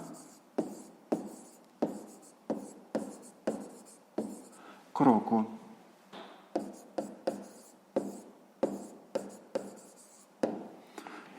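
A pen writes a math answer by hand on paper, making steady rhythmic scratching strokes close up, with a louder, longer scrawl about midway.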